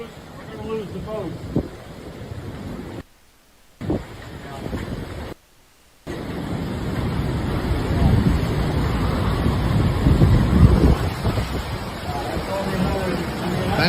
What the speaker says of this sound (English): that was awful storm surge underway in Naples, Florida